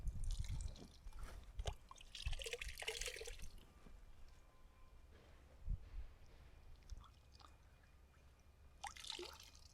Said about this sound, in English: So just squeeze the extra moisture out.